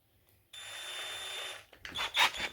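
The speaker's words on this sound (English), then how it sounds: "I'm going to have to put an even smaller drill." A small drill bit whirs steadily for about a second, then grinds and catches in short, uneven bursts, close by, while drilling for an RC Land Rover Defender gearbox install.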